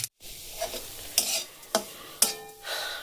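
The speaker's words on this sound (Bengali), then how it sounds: "তেল গরম হয়ে গেছে দিয়ে দিলাম হাফ চামচ কালো জিরে" Half a spoon of black cumin (nigella) seeds sizzles in hot oil with a steady crackling hiss, broken by a few sharp scraping strokes of stirring.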